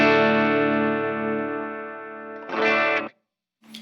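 Electric guitar through an amp with the bass knob turned fully down, a sustained strummed chord ringing thin and bright before a second strum, a brief cutoff and a short new note, all played alone.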